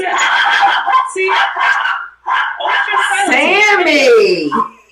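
A dog barks repeatedly in short yips and bow-wows, loud and close, with a person's voice and laughter mixed in alongside.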